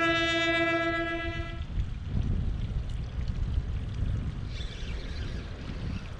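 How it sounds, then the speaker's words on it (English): Below Wolf Creek Dam on the Cumberland River, a steady horn-like tone sounds as a generator switches on, then gives way to a low, continuous rushing rumble of water and machinery. "Comes another generator on."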